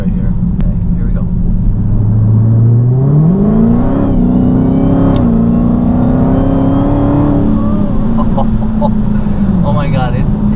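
A 707 HP Dodge Challenger Hellcat Widebody accelerating hard, heard close from inside. A loud, continuous engine roar climbs in pitch and holds through a long pull, with voices over it.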